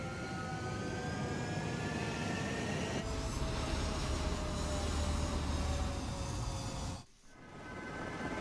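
Fighter jets roaring down a runway on takeoff in Ace Combat 7, a loud continuous engine rumble with rising whine that holds steady, then drops abruptly before building back up.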